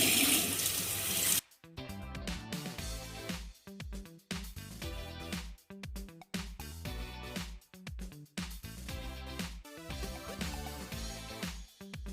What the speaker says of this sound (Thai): นี่ด้านในล้างจากข้างในออกข้างนอก